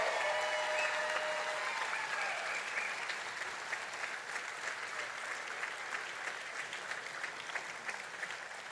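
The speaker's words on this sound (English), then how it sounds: "we're going to give one more big round of applause to our White Coats recipients" Sustained applause from a ceremony audience honoring White Coat recipients at a health sciences university, steady broadband clapping filling the room throughout with faint voices mixed in.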